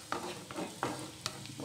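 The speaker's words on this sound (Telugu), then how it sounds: "నేను ఇప్పుడు ఆల్రెడీ కట్ చేసి పెట్టుకుని ఉన్న గార్లిక్ యాడ్ చేస్తున్నాను" Chopped garlic sizzling in melted ghee for white sauce pasta, a quiet steady frying hiss broken by a few soft stirring scrapes, with no talking.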